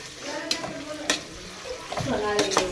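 Pulao frying in a pan in a home kitchen, with a soft sizzle broken by several sharp clinks and scrapes of a spoon stirring against the pan, close up.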